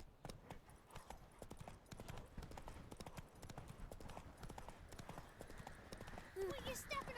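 Horse hooves clip-clop at a steady trot through The Witcher 3 game world, with a rider urging the mount on, a whinny near the end and steady ambient wind and game sound around them.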